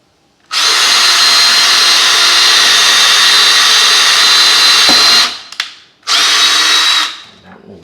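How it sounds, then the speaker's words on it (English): A power drill bores through a cabinet hardware jig in two loud, close bursts: one long steady whine of about five seconds, a brief pause, then a shorter run. "drill is going clockwise to go in"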